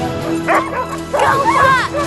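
Sled dogs bark, yip and whimper excitedly in several close bursts, with a steady background hum underneath.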